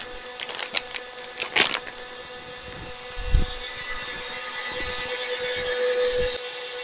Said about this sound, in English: the machine's been running for about 7-8 minutes now